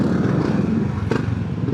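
Motorcycle engines rumble steadily and close by in traffic near the Riverbank Center in Montalban, Rizal, a dense continuous drone with no talking.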